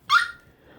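A single short, sharp dog bark rings out close by, followed by quiet breathy noise.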